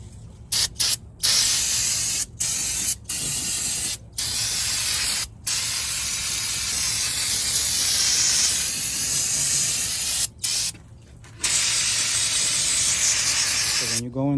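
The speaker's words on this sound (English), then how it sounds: "go ahead and hose down the whole area with some brake clean" Brake cleaner sprayed from an aerosol can over the engine area of a Kenworth T680 truck, close by and loud: steady hissing bursts, several long, broken by short pauses.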